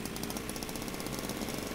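A Trabant engine in the driving game Jalopy, a steady buzzing two-stroke drone with a rapid rattling pulse much like a chainsaw, loud and continuous with no talk.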